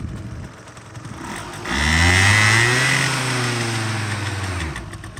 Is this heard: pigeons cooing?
no